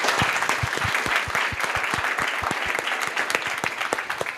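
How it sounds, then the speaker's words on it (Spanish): A school audience applauds writer Pablo Mackenna, steady clapping with distinct individual claps standing out close by over a continuous crowd wash. "Démosle un aplauso a Pablo."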